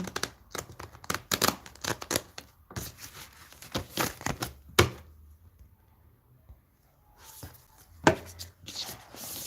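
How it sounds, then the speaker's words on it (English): An oracle card deck being shuffled at home: repeated crisp riffling and slapping bursts of cards in uneven clusters, close and fairly loud, with a quieter pause midway before a few more shuffles. "I'm just shuffling my oracle deck."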